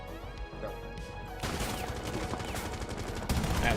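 Enemy gunfire in Rainbow Six Siege, rapid bursts of shots that start after a quieter opening and grow louder and denser toward the end, with music in the background.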